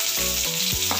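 Onions and curry leaves frying in a pan, a brief, steady sizzle with a stirring scrape, no voices.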